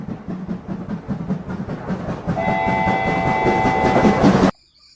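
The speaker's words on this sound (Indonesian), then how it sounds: "Wadidaw, ini kereta Thomas." A Thomas toy train runs with a busy clattering rumble of rolling wheels, then a sustained high whistle tone joins in over the clatter before the sound cuts off abruptly.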